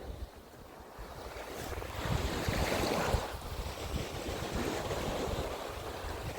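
Black Sea waves wash against the embankment in Odesa in winter, a continuous surging roar with swelling surf and strong wind buffeting the microphone, no voices.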